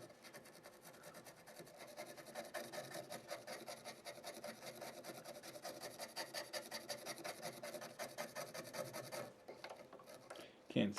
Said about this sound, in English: Just dipping some of the alcohol in the brush, getting in there and giving it a nice scrub.